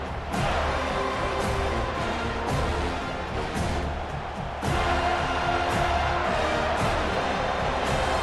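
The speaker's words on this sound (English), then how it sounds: "Decibels rising as the crowd gets behind this defense on 3rd down." A football stadium crowd at Charleston vs Florida State roars loudly and continuously behind the defense on third down, a dense wall of cheering that swells midway through.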